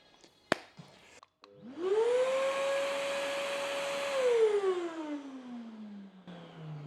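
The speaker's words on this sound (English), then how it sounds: "let's plug the hoover in." A household vacuum cleaner (hoover) being switched on, its motor whining up to a steady loud hum, holding for a few seconds, then winding down as it powers off, preceded by a plug click.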